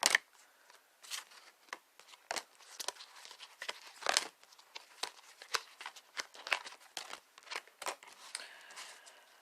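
Cards being pulled from a Life Purpose oracle deck, a run of quick papery flicks, slides and snaps close by, irregular and fairly busy, with no talking.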